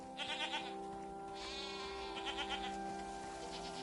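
Goat in a game scene giving several short wavering bleats in quick succession, moderately close, over a steady tonal background drone.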